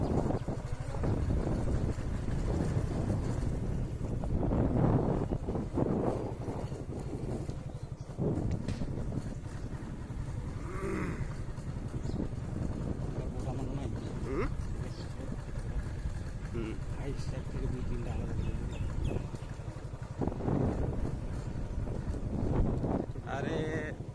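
A motorbike ride in the morning with a low engine drone and wind buffeting the microphone throughout, while people talk over it almost constantly.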